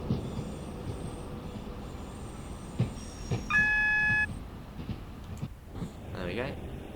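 A Class 390 electric train in the Train Sim World 6 game rolls into a station platform, a steady rumble with a sharp high wheel squeal and a brief tonal horn-like whine, while someone talks over it.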